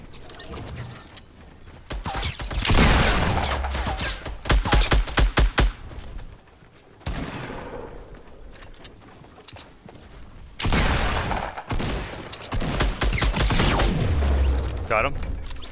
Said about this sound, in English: They're getting shot from behind.